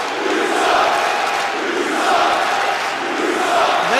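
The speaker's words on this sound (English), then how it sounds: "The crowd here in San Francisco letting them exactly know how they feel about Victor Fang." A wrestling arena crowd in San Francisco roars and jeers steadily throughout, a dense, loud wash of many voices with no single speaker standing out.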